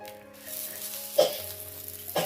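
Raw plantain slices frying in oil on a tawa, a soft steady sizzle with two brief sharper crackles as the pieces are moved, close and alone without any talk.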